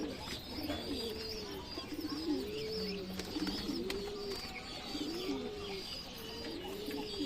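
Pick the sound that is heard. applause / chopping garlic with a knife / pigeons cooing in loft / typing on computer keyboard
pigeons cooing in loft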